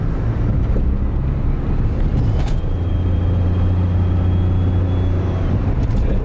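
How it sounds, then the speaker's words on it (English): A Daihatsu Move automatic turbo kei car accelerates. A constant loud engine drone and wind rush carry a faint, thin turbo whine that steadies partway through. "when you get on the gas, you can hear that little whine."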